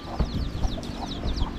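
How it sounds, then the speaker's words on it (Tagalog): A chicken clucks in short, scattered calls close by, over a busy low rumble of yard activity and shuffling, with no speech. "manok ni tatang"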